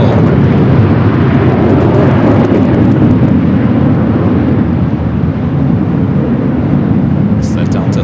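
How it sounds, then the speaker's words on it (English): A Delta Boeing 737-800 arriving from O'Hare at Los Angeles airport roars loudly and continuously with a broad, rumbling jet noise that holds steady throughout and stays close. "It's the Delta 76 and that 737-800 just arriving from O'Hare"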